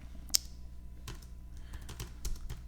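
Keystrokes on a computer keyboard as a header is typed into an Excel form label: a handful of quiet, separate taps with an irregular rhythm over a low, steady room hum.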